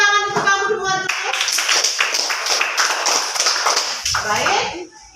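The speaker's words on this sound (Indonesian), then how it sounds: "tepuk tangan untuk kamu semua dulu." Classroom applause from a group of students, a burst of dense clapping carrying on for several seconds alongside talking voices, then tapering off near the end.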